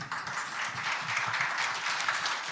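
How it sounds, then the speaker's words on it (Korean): Employees give a big round of applause at a corporate ceremony marking a company name change and office relocation, a steady broadband clapping from a crowd that stays even and continuous throughout. "우리 임직원 여러분들도 희망과 의지의 마음을 담아 큰 박수를 보내주셨습니다"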